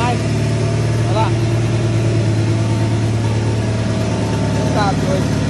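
A Chevrolet Caravan sits running close by, its engine giving a steady low rumbling idle that stays loud and even throughout, with people talking over the sound.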